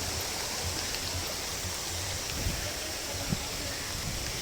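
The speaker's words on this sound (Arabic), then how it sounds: "هاي المي عم تنزل" Water runs down a stream at a cable car park in Samsun, a steady, broad rush of flow with faint scattered knocks and no clear speech over it.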